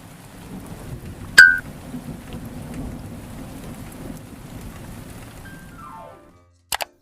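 Steady monsoon rain in India hisses throughout with faint distant rumbling, a sharp click early on, and a brief electronic chirp at the end.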